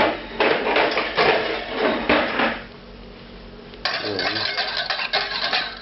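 A whisk clatters rapidly against a metal pan as cream is beaten into a sauce for chicken fricassee cooked in cider, close metallic scraping in quick bursts, with a short lull before the brisk clinking resumes.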